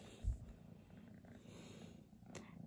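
A cat purrs softly up close in a quiet room, a low rumbling vibration with a brief louder thump near the start and faint rustling.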